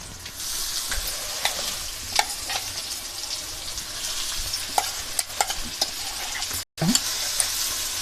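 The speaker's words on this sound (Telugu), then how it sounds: "పచ్చి వాసన పోయేటంత వరకు వేయించుకుందాం" A ground spice paste with turmeric and salt fries in a pan, crackling and sizzling steadily with frequent sharp stirring clicks and a brief cut in the middle.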